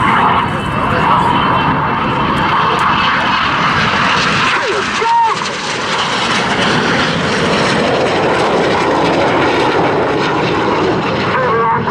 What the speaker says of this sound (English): They will dive down to approximately 100 feet with a closing speed of over 700 miles per hour.